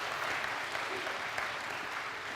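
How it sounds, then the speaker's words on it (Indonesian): A television talk-show studio audience claps for Karni Ilyas. The brief, quiet, even patter of many hands carries on steadily throughout. "Tepuk tangan buat Pak Karni Ilyas."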